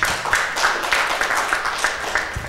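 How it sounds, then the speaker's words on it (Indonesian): Audience applause at an Indonesian goal-setting seminar, a steady, dense patter of many hands clapping together throughout, fairly close and loud with no pause. "Tepuk tangan dong."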